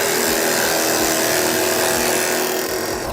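Forstner bit boring a hole in wood for a DIY wine rack; a steady, close, high-pitched drill whine with grinding, chattering cutting texture runs continuously.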